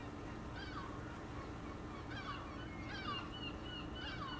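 Minecraft chickens give faint, scattered clucks and squawks, about four short calls spread over a steady background hum of game ambience.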